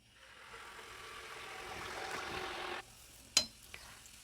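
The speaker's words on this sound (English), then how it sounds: "I'm frying low medium heat" Steady frying sizzle from sweet batter in hot oil over low-medium heat, fairly quiet and continuous, cutting off abruptly, followed by a sharp clatter and a small knock.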